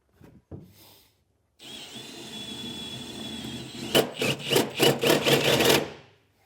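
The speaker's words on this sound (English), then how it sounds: "Now we'll come back through and enlarge our holes with a step bit" A step drill bit enlarges pre-drilled holes in the metal bed of a 2014 Ford truck for a Curt 5th wheel kit. A short tap comes first, then a steady whining grind, then several rhythmic louder bursts of cutting before the drill stops.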